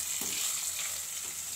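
Curry leaves, crushed chilli, ginger and garlic fry in a pan with a soft, continuous sizzle and faint crackle, fairly quiet and close, with no voices.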